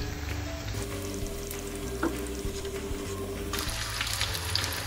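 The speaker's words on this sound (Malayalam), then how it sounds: "ലോ ഫ്ലെയിമിൽ വേണം ഫ്രൈ ചെയ്തെടുക്കാൻ, കാരണം ഇത് ചിക്കൻ വേവാത്തതല്ലേ." Raw chicken frying in oil over a low flame, a steady bubbling sizzle with a constant hum in the background and an occasional faint tap.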